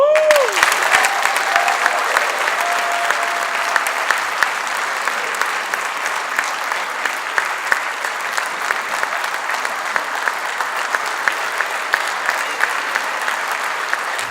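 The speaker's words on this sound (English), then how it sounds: "I think they all deserve another round of applause." Loud, sustained audience applause at the Access Conference, a thick roar of many clapping hands that stays strong and even throughout, with a brief whistle-like tone near the start.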